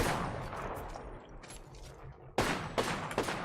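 Gunfire in Apex Legends, likely a carbine or Peacekeeper shotgun, comes as a faint distant rattle and then a few sharper, nearer bursts of shots, quiet overall with no talking.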